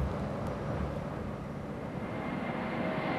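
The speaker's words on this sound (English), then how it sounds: "80 tons of equipment and 25 personnel were squeezed into a giant Antonov 124 aircraft" A giant Antonov 124 cargo aircraft, loaded with 80 tons of equipment and 25 personnel, gives off a continuous broad roar of jet engines, steady and loud without breaks.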